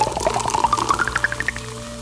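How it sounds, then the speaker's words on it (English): A quick fizzy pour of Coca-Cola as the bottle opens, liquid rising in pitch as a glass fills, with bubbly crackles over about two seconds. "Coca-Cola Pop and Pour."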